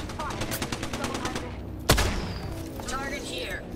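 Gunfire in the shooter game Apex Legends, with rapid bursts of shots in the opening stretch, a single loud blast near the middle, then more scattered firing as a voice talks over the action.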